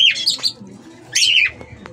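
Aviary parrots such as green-cheeked conures, cockatiels and Indian ringnecks give two loud, harsh squawks close by, one at the start and another after a short pause, over a low murmur of softer chirps.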